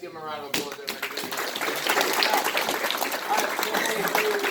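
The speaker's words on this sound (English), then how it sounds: "Give him a round of applause." Audience applause at a black belt martial arts graduation, dense steady clapping from a crowd that swells after a short start and carries on loudly to the end.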